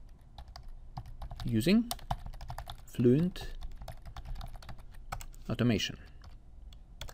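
Rapid typing on a computer keyboard while scripting code, steady close clicking throughout, with someone talking over it in three short bursts.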